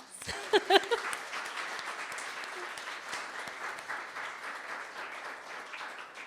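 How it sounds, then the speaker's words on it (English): Applause rises from an audience at a poetry, music and film event, with a few close, sharp claps and a brief voice at the start, then a modest, steady patter of clapping. "Let's do one more round of applause."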